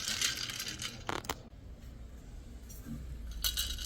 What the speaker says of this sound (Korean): 찰랑 소리 좋고요.